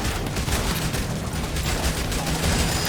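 SMG fire in the zombie survival game Yet Another Zombie Survivors, a dense unbroken stream of rapid shots layered with explosions and game effects, loud and constant throughout.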